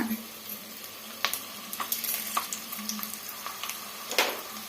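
Chana dal and urad dal frying in a hot oil tempering for an avalakki (flattened rice) dish, a steady close sizzle broken by a few soft stirring scrapes and clicks, with no talking.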